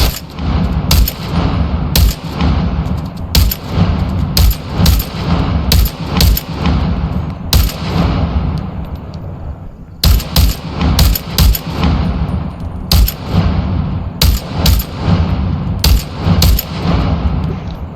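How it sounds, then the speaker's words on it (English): Rapid bursts of M4 rifle fire from the video game Into the Radius 2, loud and close, repeating in quick strings with brief pauses between volleys, and no talking. "we'll also test out the M4. I believe we're already loaded up, so we're just going to take some shots with this."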